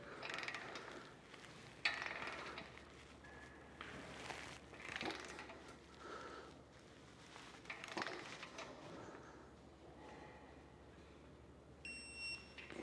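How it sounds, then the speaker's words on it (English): A torque wrench tightens bolts on a Curt A20 5th wheel trailer hitch, producing a series of quiet ratcheting clicks in separate bursts, with a sharp click near the start and faint beeps toward the end over a low hum. "It's time to come back by and go ahead and torque them down to the manufacturer's instructions."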